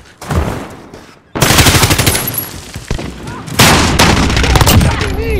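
Loud, close bursts of automatic gunfire from Call of Duty: Modern Warfare multiplayer, two sustained volleys separated by a short lull.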